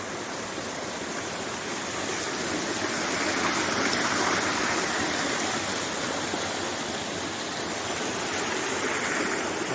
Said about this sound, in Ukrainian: зараз є тече водичка